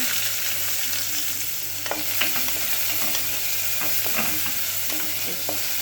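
Onion frying in coconut oil for butternut soup: a steady close sizzle with scattered spoon scrapes and taps as it is stirred, no voices.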